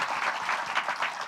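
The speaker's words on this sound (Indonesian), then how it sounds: "Sambut dengan tepuk tangan." Brief burst of enthusiastic clapping from a church congregation during a Pentecostal sermon, dense and lively with slight rhythmic surges, no voices over it.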